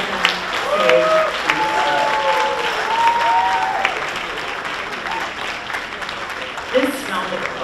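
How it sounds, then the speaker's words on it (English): An audience at a ceremony marking ten years of the Justice for All program gives steady, sustained applause for the program's facilitator. Voices and a few whistle-like cheers mix in over the clapping. "This round of applause is well deserved."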